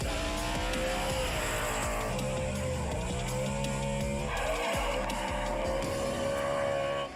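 A high-revving V8 Audi prototype race car driven by Ken Block, its engine screaming steadily at close range with shifting pitch and bursts of tire squeal across the run, loud and continuous with no talking.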